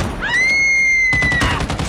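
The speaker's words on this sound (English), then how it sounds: "I'm gonna kill him with my shotgun instead." Shotgun fire in the Call of Duty Mobile video game: a rising whine-like tone holds for about a second before a cluster of loud, sharp crackling blasts lands near the end, all fairly loud and without talk.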